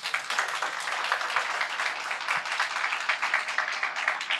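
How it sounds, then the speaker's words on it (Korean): An audience at a university global forum applauds a student's presentation, a steady wash of many hands clapping, moderately loud and heard without voices. "큰 박수 부탁드립니다"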